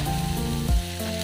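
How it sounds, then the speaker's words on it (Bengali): Carrots, peas and chopped chillies sizzle steadily as they are stir-fried over a medium-high flame for vegetable chowmein, a close, continuous frying hiss with no talking. "এবার আমি একটু নেড়ে ভালোভাবে ফ্রাই করে নেব।"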